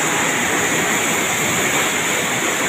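Water rushing loudly and steadily through the Hazara canal in Kasganj, Uttar Pradesh, a continuous close roar with no voices over it.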